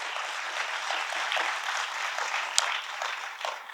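An audience at a Hindi-language Christian spiritual gathering claps steadily and continuously, a dense, even wash of applause heard alone with no talking over it.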